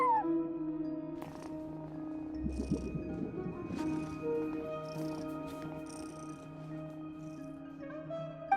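A cat in the video game Genshin Impact purrs and meows softly over quiet tonal game music, with brief chirps and short clicky sounds, faint and close.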